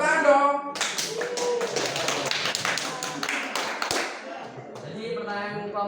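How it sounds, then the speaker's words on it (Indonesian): A group claps during an Indonesian church Bible study session, with brisk, uneven handclaps that start after a brief voice, fill several seconds close by, then thin out as speech resumes. "Tepuk tangan dong."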